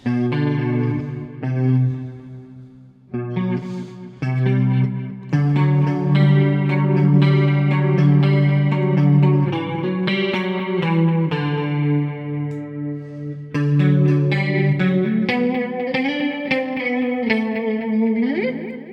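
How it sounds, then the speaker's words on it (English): Clean electric guitar through a Valeton GP-200X multi-effects unit, with delay, reverb, a little chorus and light compression for a sparkly 80s tone, played as sustained chords and melodic lines, steady and full for the whole stretch. "it's a clean guitar amp, and I have some delay and some reverb on it, and a little bit of chorus and a little bit of compression"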